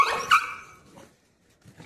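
A dog in a village gives one sharp close bark right at the start, followed by fainter whimpering sounds and quiet.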